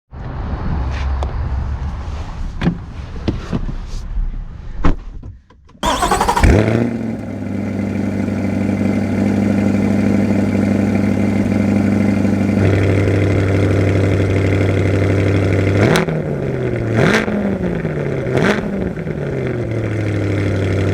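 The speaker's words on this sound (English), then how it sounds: "I always find the tire hop in the cold kind of funny." A 2025 Chevrolet Corvette Z51 C8 launches hard on cold tires: brief clicks, then a sharp engine surge into a loud sustained roar that climbs through gears with rhythmic pulsing from tire hop and pitch dips at shifts.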